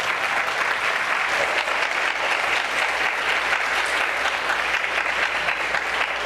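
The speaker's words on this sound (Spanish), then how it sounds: "Les pido un aplauso, por favor, para ellos." A studio audience applauds the guests of a talk programme, a dense, loud, even wash of clapping that holds steady throughout, with no voices on top.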